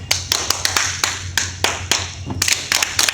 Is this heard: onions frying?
no